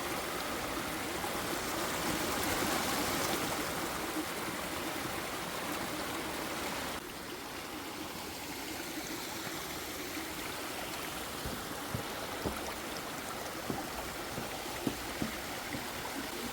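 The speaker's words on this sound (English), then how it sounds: "We heard a creek sound." A woodland creek rushes and burbles steadily over rocks in a continuous stream, with a few light splashes and ticks toward the end.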